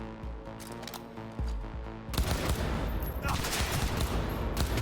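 Gunfire in the video game Cyberpunk 2077: a rapid burst of loud automatic shots erupts midway, following quieter in-game sounds and a reload-like clatter, with no talk during the shooting.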